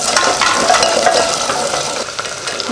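Curry leaves and shallots sizzle and crackle steadily in hot oil in a pan, with a loud, continuous frying hiss and the occasional scrape of stirring.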